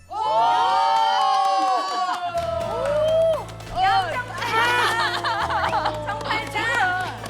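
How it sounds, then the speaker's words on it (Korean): A studio audience cheers, whoops and claps during a television variety show ranking announcement, with loud excited crowd noise and voices calling out throughout. "박수 받았어요"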